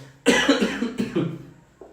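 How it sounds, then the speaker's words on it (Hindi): A single harsh cough bursts out close up, followed by a couple of quick rough coughs that trail off. "थोड़ी खांसी उठ रही, पता नहीं क्यों"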